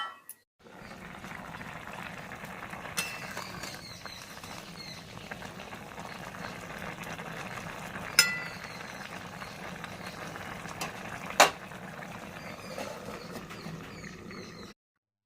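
Shukto vegetables cook under a lid in a pan, giving a steady, soft simmering and bubbling hiss that lasts throughout. Two brief sharp clicks stand out along the way.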